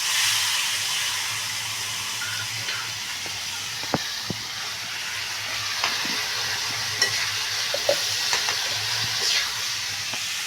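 A spice tempering for split moong dal sizzles in hot oil, a continuous hissing fry with occasional sharp pops and spoon clicks, fairly close and steady, with no talking.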